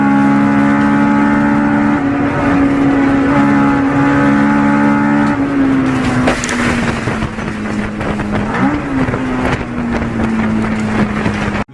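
A Honda Civic races around a circuit, its engine holding a steady high drone with gear-change dips and a brief rev spike, loud and continuous with no talk.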